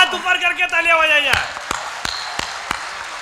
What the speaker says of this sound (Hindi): एक बार दोनों हाथ ऊपर करके तालियां बजाइए